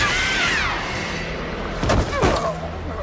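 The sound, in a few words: gunshots in the TekWar movie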